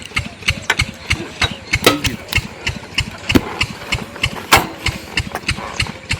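A vehicle engine runs at a steady idle, its rhythmic chugging pulses repeating close and loud, while voices talk nearby.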